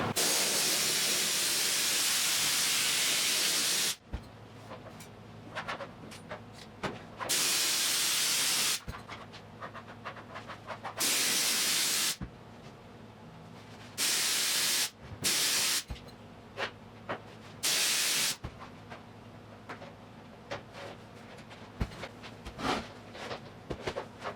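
Spray glue blasting from a can onto the parcel shelf area of a 1980 Triumph TR7 interior, loud close hissing bursts of varying length separated by short quiet gaps.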